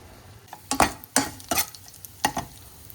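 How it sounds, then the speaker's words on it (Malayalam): Mustard seeds splutter in hot oil in a pan with a handful of sharp, crackling pops spaced irregularly over a quiet sizzle, close by, with no talking. "ആ സമയം കൊണ്ട് കടുക് പൊട്ടിച്ചു കേട്ടോ"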